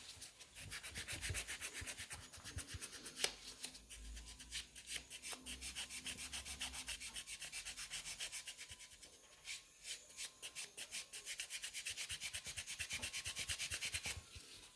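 A matte top coat on a nail is buffed with quick back-and-forth scratchy rubbing strokes, faint and close, in steady bursts with short pauses.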